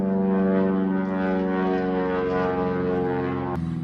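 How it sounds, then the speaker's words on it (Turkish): A propeller airplane drones loudly and steadily overhead, its engine hum filling the whole stretch before cutting off abruptly near the end. "Alttan uçak bir şey geçiyor şu an."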